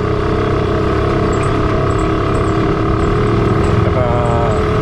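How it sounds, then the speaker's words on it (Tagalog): A Yamaha RS 100 two-stroke motorcycle engine runs steadily and close by, a dense continuous drone that holds without pause throughout. "itong motor na to ang lagi naming nakikita at naririnig yung makina niya na ganito"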